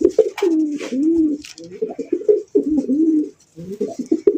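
Black Rasgolla fancy pigeons coo close by in repeated low, throaty rolling phrases with short pauses between them, loud and clear with no talk.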